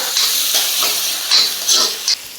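Chopped ginger sautéing in a pan for beef curry, a loud close sizzle with bursts of hissing and stirring scrapes over a few seconds.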